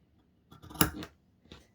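Scissors make a short diagonal snip through a fabric corner, a few quick crisp cuts close by in an otherwise quiet room.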